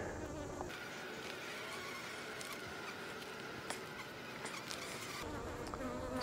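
Honey bees buzz steadily during a beehive inspection, a dense, continuous drone of many insects close by with faint scattered clicks and rustles, and no talking.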